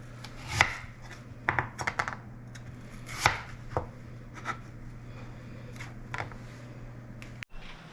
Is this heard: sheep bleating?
no